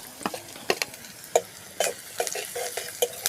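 Onion, garlic and turmeric fry in a pan with a low sizzle, broken by repeated spatula scrapes and clinks at an uneven rhythm, close and fairly loud.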